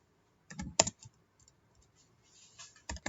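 Keys tapped on a computer keyboard while entering short menu text for a homemade maze game, a quick cluster of clicks then sparse taps and a final burst, close and fairly quiet.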